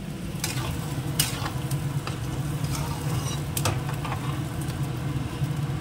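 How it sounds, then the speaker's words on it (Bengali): Pots of curry with taro stems and of rice bubbling on the stove, giving a steady low simmering rumble with light clinks and scrapes scattered over it; no voices. "যেখানে তরকারিটা ফুটছে, কাঠি কচুটা, ভাতটাও ফুটছে"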